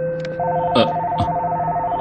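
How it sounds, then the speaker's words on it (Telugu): A telephone rings in a scene from a Telugu action thriller film, a steady, close electronic tone with a pulsing edge, joined briefly by faint rustling and soft thumps over two seconds. "ఉదయాన్నే ఫోన్ రింగ్ అవుతోంది"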